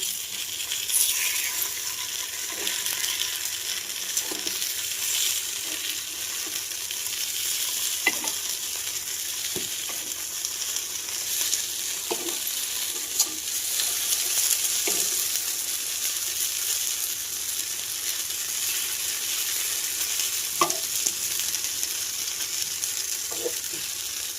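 Appe batter fries in an appe pan over a gas flame, giving a steady, close sizzle throughout, broken by occasional light metallic clicks and taps.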